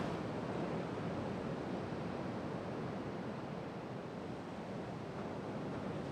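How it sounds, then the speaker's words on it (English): Ocean surf crashing steadily at a coastal photography location, a broad, continuous wash of breaking waves with some wind noise, fairly close and unbroken throughout. "That's the surf crashing behind me."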